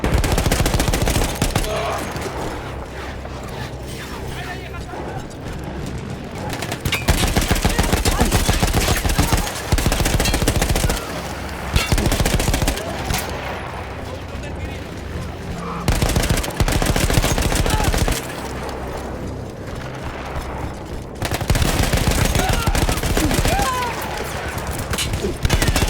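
A mounted machine gun in Battlefield 1 fires during the Third Battle of Monte Grappa against Austro-Hungarian troops. Loud, dense bursts of rapid gunfire come in long stretches, broken by brief pauses, with other battlefield gunfire around.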